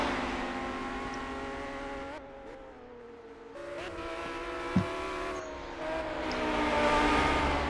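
GT3 race cars racing on the Nordschleife in the Project Cars game on PS4, engines droning and shifting pitch through a corner with gear changes, a sharp brief tire squeal partway through, and revs climbing again near the end.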